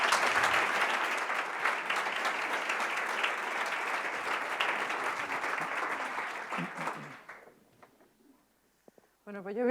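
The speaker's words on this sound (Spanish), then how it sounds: "os pido por favor un aplauso para darle la bienvenida." Spanish conference audience gives a welcoming round of applause for the arriving speaker, dense clapping that holds steady for about seven seconds, then fades into scattered claps and quiet, with brief bumps at the end.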